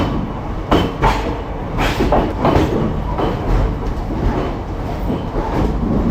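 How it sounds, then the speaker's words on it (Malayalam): A passenger train running out of Trivandrum Central in rainy weather gives a loud, continuous rumble with rhythmic clickety-clack of wheels on rails, heard close up throughout. "ട്രെയിൻ പുറപ്പെട്ടിട്ടുണ്ട് നല്ല പോലെ"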